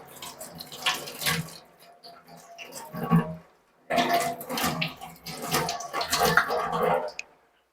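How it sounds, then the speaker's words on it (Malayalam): Coriander leaves are washed under a running kitchen tap, water splashing and pattering in a sink in two bursts with a short quiet gap, close and moderately loud, with no talking. "നമ്മുടെ മല്ലിയെല്ലാം അതൊക്കെ വെച്ചിട്ടുണ്ടായിരുന്നു ഞാൻ അത് കുറച്ച് വാഷ് ചെയ്തിട്ടെടുക്കാം"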